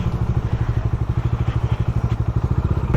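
A BS6 Bajaj Dominar 400 motorcycle runs on a ride out of Pune, its engine thumping in a steady, rapid pulsing beat, loud and close with some wind rush.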